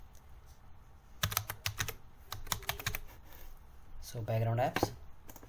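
Quick bursts of clicking keystrokes on a computer keyboard while searching in Windows, the taps close and crisp in short runs, with a voice speaking briefly near the end.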